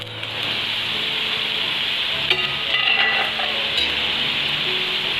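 Garlic and ginger fry steadily in a pan with a bright continuous sizzle, and a few scraping stirs cut through the middle without any voices.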